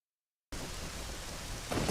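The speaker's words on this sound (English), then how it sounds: "I will leave you guys with the sound of the storm" Heavy thunderstorm rain pours steadily in Zelda: Ocarina of Time, starting abruptly after a brief silence and building slightly toward the end, a dense continuous hiss with no talking.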